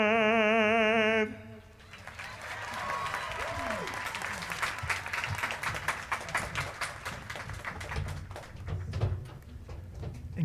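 Audience applause at the University of Montevallo spring 2021 commencement, a sustained burst of many hands clapping that swells after a brief sung phrase and carries on for several seconds, moderately distant in a large hall.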